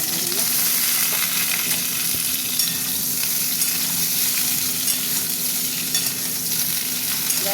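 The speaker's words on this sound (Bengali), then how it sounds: "এবার সবজিগুলোকে ভাজবো, বুঝেছো।" Pointed gourd and mixed vegetables frying in a pan, a steady close sizzle with stirring scrapes and faint clinks, continuous and fairly loud with no voices.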